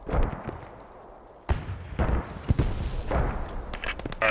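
Gunfire in the World War II shooter Post Scriptum: several sharp, booming shots ring out at varying distances, with distinct reports around the middle and a dull rumble of battle between them.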